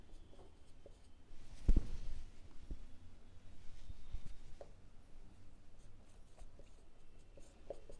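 Marker or chalk scratches across a board during a maths lesson on the area of a triangle, faint soft strokes with a brief louder tap early on, set against a quiet room hum and no talking.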